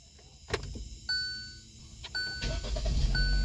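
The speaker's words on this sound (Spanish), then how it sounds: "Entonces ahorita sí prende el carro." A car starts after a click and two electronic dashboard chimes, and the engine catches into a steady low idle rumble that continues to the end.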